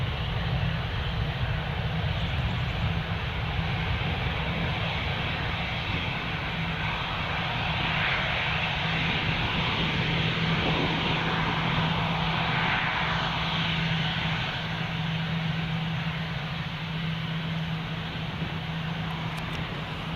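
Airliner jet engines at Newcastle International Airport in fog, a steady broad roar with a low hum that holds at constant loudness for twenty seconds, heard from a distance without talk.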